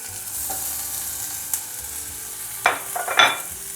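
Finely chopped onions sauté in a pan for Turkish çimdik mantı, a steady moderate sizzle with several sharp scraping stirs near the end, no talk.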